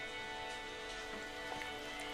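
Rain falls in an animated scene, a soft, steady hiss of drops with faint scattered patters, even and continuous, fairly quiet with no voices.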